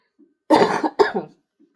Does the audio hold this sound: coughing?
yes